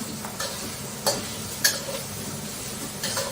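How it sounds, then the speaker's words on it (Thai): Pork fried and stirred in a generous amount of oil in a pan for Korat-style noodles, with a steady sizzle broken by several sharp scraping stir strokes, close and fairly loud, with no talking. "ใส่หมูแข็งลงไประวังกระเด็นนะคะเพราะว่าหมูมีน้ำ"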